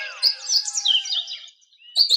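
Several small birds chirp and tweet in quick, overlapping high calls for most of the stretch, then pause briefly before a fresh burst of chirping returns at the end, with no voices heard.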